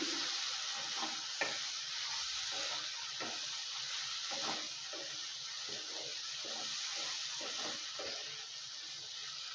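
Fried okra tossed into a besan masala in a pan is stirred, producing repeated spoon scrapes and clinks over a steady background sizzle, fairly quiet and close.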